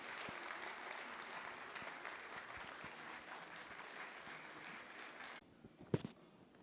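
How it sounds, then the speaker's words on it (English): Audience at a film and TV market festival applauding in a hall, steady clapping that fades after about five seconds, with a sharp thump near the end. "A round of applause for him, please."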